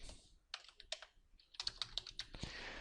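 Someone types quickly on a computer keyboard while entering component fields in ArchiCAD. The keystrokes come in short bursts, close and soft, with a brief pause midway and no talking.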